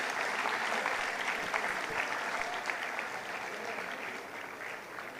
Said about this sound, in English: Can we have a round of applause to the Dabbawalas,